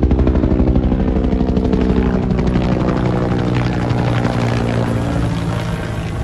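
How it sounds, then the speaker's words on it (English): A helicopter flies low overhead with a loud, dense rotor roar and rapid blade chop that stays steady throughout and eases off slightly toward the end. "Is it normal? I mean the helicopter."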